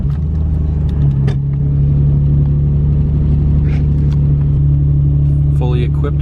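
A Nissan Skyline GTR engine holds a steady, loud low drone under cabin noise, with no clear rise in revs, while a person talks over it.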